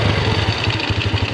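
A Yamaha motorcycle engine idles right after a carburetor adjustment, with a steady, pulsing low thrum that is loud and close, its rhythmic beats slightly uneven and running alone without any talk.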